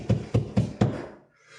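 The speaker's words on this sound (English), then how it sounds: "He'd get on the door and like bang on Mari's door" A fist bangs on a door four times in an even rhythm. The thumps are close and solid, followed by a short quiet tail with no voices.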